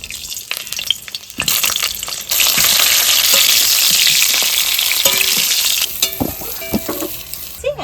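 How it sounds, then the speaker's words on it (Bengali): Boiled corn kernels frying in white oil in a wok, starting with scattered pops, then surging into a loud, dense, steady sizzle before thinning out into crackles and clinks of stirring. "একটু ভুট্টাগুলো ভেজে নেব।"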